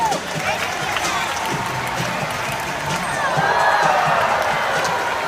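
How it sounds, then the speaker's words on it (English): A zoo audience at a dolphin show applauds to encourage the dolphin Allie; a wash of scattered clapping and crowd noise runs steadily, swelling a little in the second half. "So let's give her applause for encouragement."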